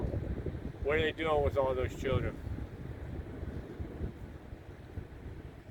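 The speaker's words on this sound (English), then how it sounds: "And here comes the wind." Wind blowing against an outdoor microphone, a low rumbling buffet that continues steadily throughout, with someone speaking briefly at the start before the gusts carry on alone.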